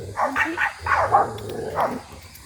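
Several dogs bark in short bursts, fairly close, with a few yips mixed in over a low outdoor rumble, near a wild boar.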